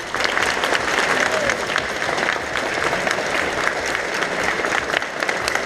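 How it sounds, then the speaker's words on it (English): An audience at a UK convention gives a round of applause, a loud, steady wash of many hands clapping without pause for the whole stretch, with a faint crowd murmur underneath. "So I'd like a round of applause for them."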